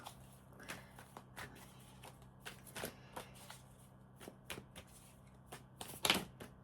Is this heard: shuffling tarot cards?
yes